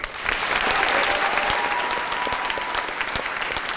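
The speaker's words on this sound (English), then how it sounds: "receiving a standing ovation from a sold-out crowd of about 600 plus" Sustained applause from a sold-out crowd of about 600 giving a standing ovation to Wyoming Congresswoman Liz Cheney, a dense, steady wash of many hands clapping throughout.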